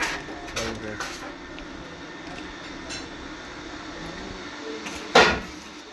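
Leaf plate pressing machine working steadily with a continuous mechanical drone, punctuated by periodic pressing clunks and a sharp louder thump near the end; people talk faintly in the background.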